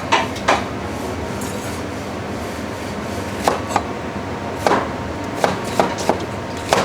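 Knife finely slicing shallot on a cutting board for nam jim jaew sauce, a series of sharp, close chopping knocks, some single and some in quick clusters, over a quiet background.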